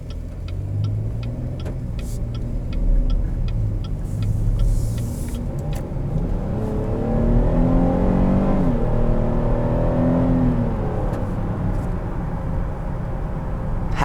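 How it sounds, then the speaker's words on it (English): A 2020 Chevrolet Blazer Premier's V6 engine idles, then revs up and down several times, its pitch rising and falling, fairly close with a steady rumble beneath. "One of the best sounding V6s I've ever heard."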